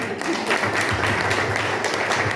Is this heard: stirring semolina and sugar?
no